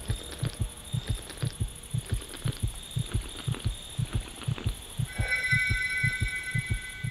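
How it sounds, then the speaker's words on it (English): Roblox Bloxy Cola gear skin sound effect in the game Survive: a steady, evenly spaced thumping heartbeat pulse, a dozen or so beats under a faint hum, with a brief chiming tone joining near the end. "The Bloxy Cola gear skin sound has been updated."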